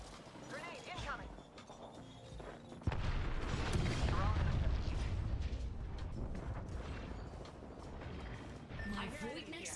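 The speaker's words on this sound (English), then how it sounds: "Grenade incoming." Grenade blast in Apex Legends, a sudden sharp explosion followed by a long rumbling roar and debris, mixed with gunfire and a voice talking over it.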